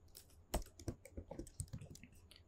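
Computer keyboard being typed on, a quiet burst of close, irregular key clicks with a few sharper strokes, with no voice over it.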